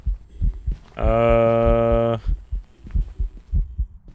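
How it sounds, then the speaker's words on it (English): Raiju ghost heartbeat in the video game Phasmophobia: a steady, deep, bass-heavy thumping pulse throughout, with a loud sustained tonal hum cutting in for about a second partway through. "So you notice how the heartbeat was a lot more base boosted?"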